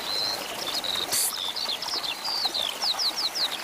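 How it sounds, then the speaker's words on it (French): A skylark sings high, thin twittering phrases in a steady outdoor stream, with quick repeated trills and chirps that grow brisker toward the end, with no voices. "Tu entends l'oiseau chanter?"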